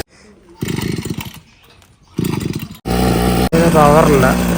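A cutting machine, probably a chainsaw that had been losing power, runs loud and steady in the second half, after earlier stretches of people talking over a rougher idle.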